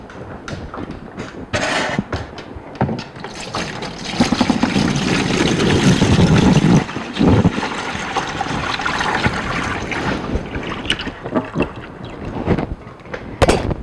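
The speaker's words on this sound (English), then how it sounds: "So I'm going to transfer this milk over to our tub." Milk warmed to 32 degrees, poured into an insulated tub for making feta cheese, a continuous close splashing trickle that swells loudest midway and tapers off, with no talk.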